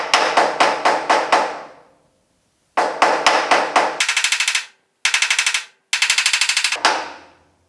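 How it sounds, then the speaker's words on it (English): Rapid bursts of hammer blows on the sheet metal door jamb lip of a 1950 Chevy truck, clanging in quick runs of several strikes each, separated by short pauses, close and loud. "we're going to go through and hammer this whole lip and smooth it out real nice"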